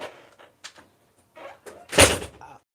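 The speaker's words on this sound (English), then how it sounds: "Okay, close the door." A door is pushed shut indoors, a loud broadband thump near the end after some shuffling and handling noises, close to the listener.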